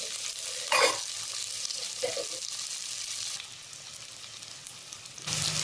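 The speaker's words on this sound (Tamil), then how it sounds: "வெங்காயம் நல்லா வதங்கிடுச்சுங்க." Onions sauté in a pan for a dried-fish curry, giving a steady close sizzle with a few louder stirring scrapes and a brief burst of hiss near the end, with no voices.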